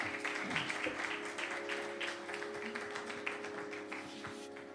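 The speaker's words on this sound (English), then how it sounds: "Let's have a huge round of applause for them." Applause from a festival audience after a Kathak dance performance: a quiet, sustained patter of many hands clapping at a distance, fading slightly toward the end.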